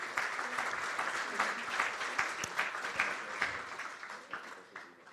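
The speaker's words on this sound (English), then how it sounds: "Let's applaud him." Conference attendees at a regional business summit give a full round of applause, a steady wash of many hands that holds, then thins and fades toward the end.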